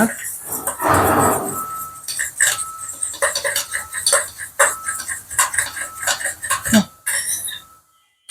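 Chicken feet are stirred with soy sauce in a bowl, producing irregular wet clinks and scrapes of utensils against the dish, with a louder clatter early on and a pause near the end.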